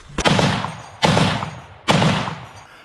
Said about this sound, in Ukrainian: на позиціях бійці вже прикривають нашу піхоту з кулемета